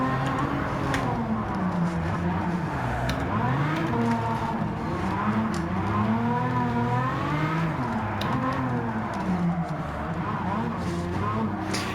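A car drifting in the Gran Turismo 7 racing game, its engine note rising and falling in repeated sweeps as it revs through a long slide, steady and loud throughout, with no talk.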